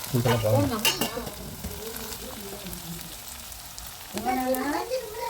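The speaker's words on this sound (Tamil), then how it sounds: "இஞ்சி பூண்டு பேஸ்ட் சேர்த்துக்கலாம் வெரி குட் நல்லா வதக்கணும்" Ginger garlic paste sizzling and being stirred in a pan for a tomato thokku, a steady frying hiss beneath a voice speaking over it.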